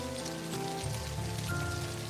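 Steady, loud rain falling on a surface, a dense continuous hiss and patter with no voices.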